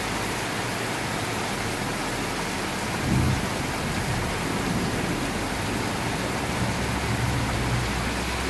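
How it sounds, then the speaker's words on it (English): Heavy downpour roars steadily through a severe summer thunderstorm in Newburg, Pennsylvania, with a low rumble of thunder rolling in partway through and more distant grumbles near the end. "You can hear how hard it's raining."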